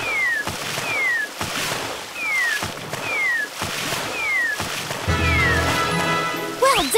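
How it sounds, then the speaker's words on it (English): Cartoon cat meowing repeatedly in a My Little Pony video game, a string of short rising-falling meows at a steady rhythm over game music, ending in a louder yowl. "Crazy cat alert!"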